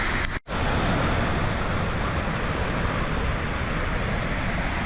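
Pulhapanzak waterfall in Honduras roars as a loud, steady, broadband rush of falling water, continuous and close, with only a momentary dropout near the start and no voices.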